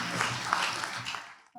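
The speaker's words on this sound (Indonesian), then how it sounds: "Kita berikan tepuk tangan untuk Sylvia Noya." A studio audience at the Kick Andy talk show applauds in a dense, moderately loud burst that tapers off within about a second and a half.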